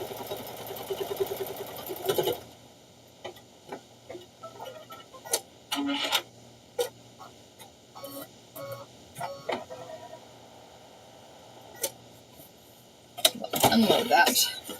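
An embroidery machine stitching in intermittent bursts of rapid mechanical clatter and ticks over a steady low motor hum, close by, with a loud busier stretch near the end.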